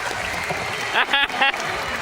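Audience at a dolphin show at the Georgia Aquarium, with steady crowd clapping under a loud amplified voice and a few high whistle-like bursts near the middle.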